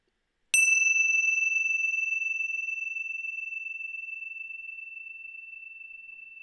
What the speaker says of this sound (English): Look for the present moment in the sound of the bell.